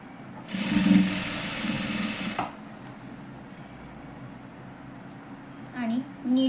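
A sewing machine stitches net sleeve fabric in a quick burst of about two seconds, then falls quiet before brief faint sounds near the end.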